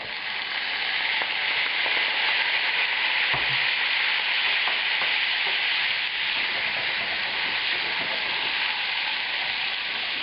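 Worcestershire sauce hits a hot pan holding steak and butter for steak au poivre, bringing on a loud, continuous close sizzle with popping spatter that stays dense for about ten seconds, with no voices.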